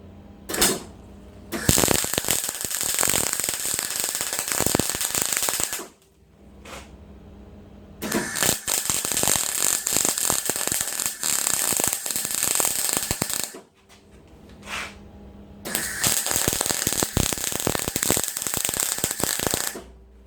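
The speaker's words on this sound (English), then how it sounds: "So I'll put some weld on the outside side of this disc. Right, so back to the MIG, I suppose." Three bursts of MIG welding on a mild steel disc, each a loud, dense crackling sizzle lasting several seconds, separated by short pauses.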